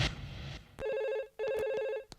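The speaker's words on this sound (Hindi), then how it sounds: "किसका फोन हो सकता है?" A telephone ringing, two bursts of an electronic warbling ring separated by a short gap, moderately loud and close, after a brief stretch of noisy rustle.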